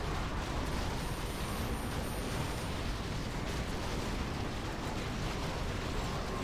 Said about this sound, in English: Okay, let's cast Holy Explosion